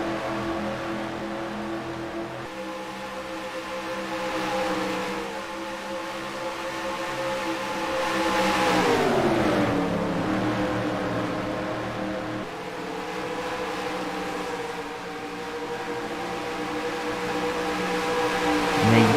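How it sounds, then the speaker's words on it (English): Racing cars roaring steadily on a speedway as one slipstreams past another, a continuous droning engine blend with a rising and falling pass midway, no voices over it. "it looks like Candyman is using that slipstream to power past him"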